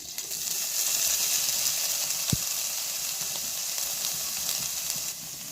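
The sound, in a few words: paneer frying in ghee with sugar and salt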